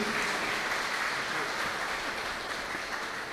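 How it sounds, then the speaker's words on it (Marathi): A church youth program audience at St. Thomas Church claps loudly and steadily to thank four speakers as they receive gifts. The even, sustained applause carries no speech over it and tapers only slightly toward the end. "आपण जोरदार टाळ्या वाजवून त्यांचे आभार मानूया"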